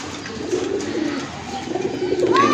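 A pigeon coos softly and repeatedly at close range, its low throaty calls rising and falling over a faint background hum.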